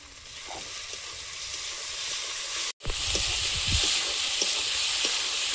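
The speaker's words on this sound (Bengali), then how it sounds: "ভালোভাবে মশলাটা কষিয়ে নেব।" Masala with green chilli, chopped tomato, salt and a pinch of turmeric sizzles and hisses steadily in a pan, with stirring scrapes and a brief cut partway through.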